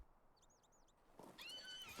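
A horse in a video game gives a faint, quick whinny in two short pitched bursts, followed by a louder, brighter neigh that carries on near the end.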